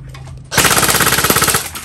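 A CYMA Thompson M1A1 airsoft gun (model CM.051, metal body with wood-pattern plastic furniture) fires a loud, rapid automatic burst of about a second, the shots rattling in quick succession close by after a quiet start.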